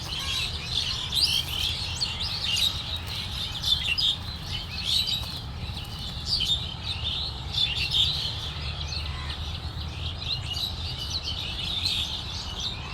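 Many birds chirp and tweet from trees in a leafy corner of Dhaka, their bright calls scattered and overlapping at a moderate distance over a soft, constant outdoor hum.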